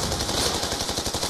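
Rapid automatic gunfire crackles in quick, evenly spaced bursts as a quadrotor drone is shot down in the video game Black Ops II, dense and continuous over a steady hiss, with no talking.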